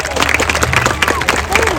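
An audience at a school speech event applauds a small child: a brief, dense patter of many hands clapping together, steady and fairly loud throughout with a crowd murmur beneath.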